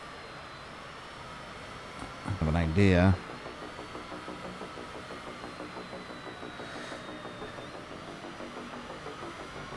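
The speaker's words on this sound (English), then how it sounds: "The engine's just spooling." In a flight simulator game, an aircraft engine spools with a steady droning, pulsing hum throughout, while a person speaks briefly over it and a short rising synthetic tone sounds near the start.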